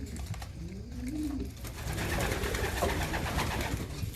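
Racing pigeons cooing softly in their loft, low murmuring calls over a steady rustling background, with no one speaking.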